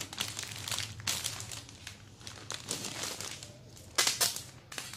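Paper wrapping around a 50-stem soap flower bouquet crinkles and rustles in repeated bursts, close but soft, with sharper crackles near the end and no talking.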